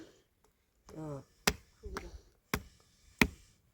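Several sharp, irregular knife chops striking a surface, close and crisp, with a short vocal sound between them.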